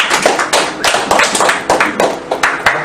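Scattered consolation clapping from a small audience at a Super Metroid speedrun marathon event, about eight uneven claps and taps spaced roughly every third of a second, close and moderately loud.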